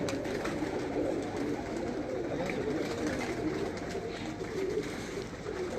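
Pigeons coo steadily on a rooftop, a continuous, moderately loud layer of soft throaty calls overlapping with no pauses and no voices.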